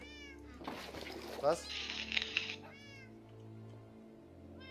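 Cats in the Minecraft video game meow in short rising calls, a cluster at the start and another near the end, around a busy stretch of game noise and a brief spoken interjection.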